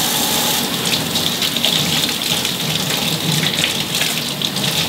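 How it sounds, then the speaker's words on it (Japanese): Marinated fish rinsed under a running tap, a steady broadband gush of water splashing continuously and fairly loud close by, with no voices. "じゃあ一旦これでマリネができたので、さっと水で洗い流して一旦フレッシュの状態で味見をしてみます。"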